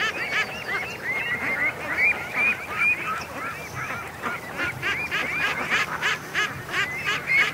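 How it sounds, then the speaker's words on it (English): Young ducks quack in a steady, thin, reedy chorus at a lake in the early morning, many calls overlapping at a moderate distance without any talking. "It's so strange hearing immature quacking out here."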